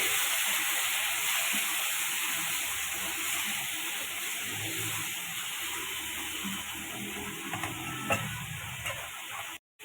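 Ginger and garlic paste sizzle in a pan while a chicken stew is being made, a steady, quiet frying hiss with faint stirring clicks, ending in an abrupt cutoff.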